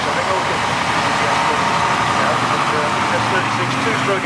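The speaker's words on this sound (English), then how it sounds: "Here is the two-stroke that goes past." A Foden S36 two-stroke lorry with a sheeted load passing on a parade, a steady, fairly loud engine drone, with a voice talking over it.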